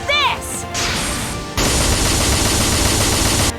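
Gunfire erupts in the Super Neptunia RPG video game, a loud dense burst of rapid shots and crashing impacts that follows brief game effects and runs nearly unbroken for about two seconds.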